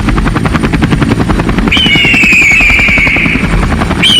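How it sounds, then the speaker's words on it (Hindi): A cartoon helicopter spinning round in the air, with a loud, close rotor chop beating in steady rhythm and a high whistling whine laid over it partway through. "अरे ये हेलीकॉप्टर तो गोल घूमने लगा मालिक, नीचे तो उतर ही नहीं रहा।"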